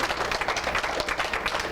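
A church congregation applauds together, a dense continuous wash of many hands clapping at close range, loud and steady throughout with no pauses.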